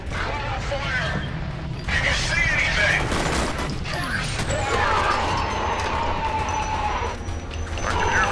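In the shooter F.E.A.R. Perseus Mandate, a grenade blast and its crashing debris break out amid a chaotic firefight, with several sharp bangs, metallic clatter and a ringing tone, while voices talk over the combat.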